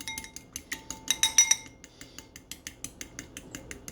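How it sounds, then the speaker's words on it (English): Egg yolk and grated cheese whisked in a bowl, quick rapid clinks and taps of metal against the dish in an uneven rhythm, close and fairly quiet, with no talking. "You gotta whisk all this shit together."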